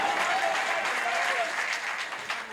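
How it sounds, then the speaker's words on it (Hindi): Audience at an Urdu mushaira and kavi sammelan in Kandhla, Shamli clapping in a steady dense wash, loud and continuous, with voices mixed faintly beneath, fading slightly toward the end. "जरा अच्छे से तालियां बजा देगा"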